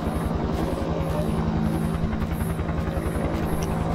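A video-game helicopter thumps in a steady, fast rotor pulse with a whining engine hum, close and continuous, and a faint beep breaks in near the end, from the horror game They Are Here.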